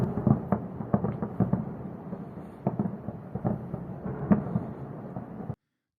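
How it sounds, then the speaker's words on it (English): Air defense system explosions over eastern Tehran, a series of distant muffled booms and thuds at irregular intervals over a continuous low rumble, with no talk. "Here are explosions being heard in eastern Tehran as a result of the air defense system operating."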